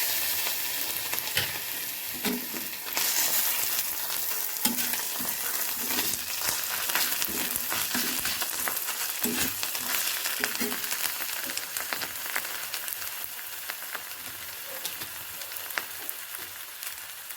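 Steady loud sizzling of ginger garlic paste frying in a hot pan, with occasional stirring clatter, continuous throughout.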